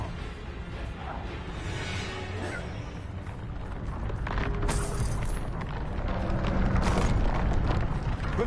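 A Bombarda blasting spell explodes in Hogwarts Legacy, a rumbling boom of broadband noise that swells over several seconds amid continuous game noise.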